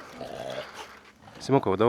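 A dog's low growl rumbles briefly, followed by a short burst of harsher, louder vocal noise close by.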